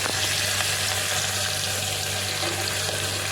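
Onion sautéing in a pan while cooking Gujarati dhokla and green chickpea curry, giving a steady, close frying sizzle and hiss throughout with no talking.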